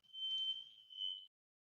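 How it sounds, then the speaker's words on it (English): Smoke detectors sound a high, steady electronic beep that holds for about a second, dips briefly and cuts off, quiet and alone. "You can hear my smoke detectors beeping in the meantime"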